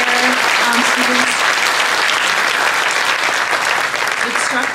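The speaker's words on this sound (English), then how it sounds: "can we just get another round of applause for our wonderful musicians, the musicians here and our choir students?" A school winter concert audience applauds the musicians and choir students, sustained dense clapping that fills the hall, steady and loud with faint voices mixed in and a slight fade near the end.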